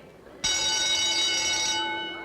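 On a film set, a bell rings out in one sustained, resonant tone that holds for well over a second and then slowly fades, heard alone without talk.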